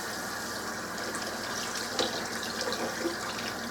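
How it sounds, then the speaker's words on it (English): Tap water runs steadily into a kitchen sink as rice is rinsed, a constant close hiss and splash with small sloshing bumps from stirring the grains, no talk. "we're going to rinse this really good"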